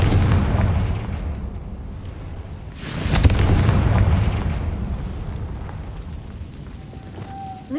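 A Confringo blasting spell explodes in Hogwarts Legacy, a loud boom bursting out midway through a steady rumbling game soundscape, its deep roar swelling and then fading back into the low ambient bed.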